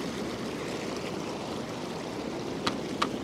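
Turbulent water churns steadily in the corner of an inflatable hot tub, a continuous close rushing and gurgling wash with two brief sharper splashes near the end.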